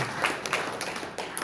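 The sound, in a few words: audience applause in church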